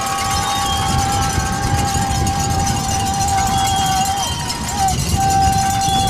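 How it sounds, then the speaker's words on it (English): Steady roar of a crowd in the stands at a high school football game, Valley Christian against Florence, a dense continuous wash of cheering and babble with a voice running underneath. "Lots of crowd noise."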